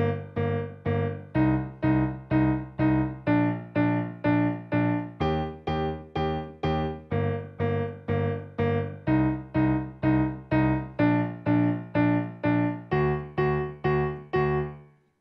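Synth keyboard plays the verse of a pop song in steady, evenly repeated chords with a bright electronic tone, each chord decaying before the next, continuous throughout with no voices.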